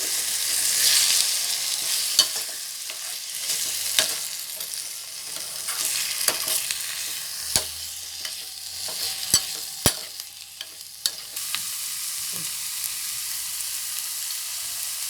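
Food is stirred and roasted in a pan: a continuous close sizzle punctuated by repeated sharp spoon scrapes and knocks against the metal at irregular intervals, with no talking.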